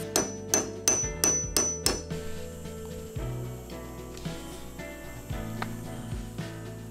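A hammer strikes a punch to drive out rivets on an RM250 during a rebuild: six sharp, evenly spaced metallic blows up close, followed by softer, irregular knocks and scraping.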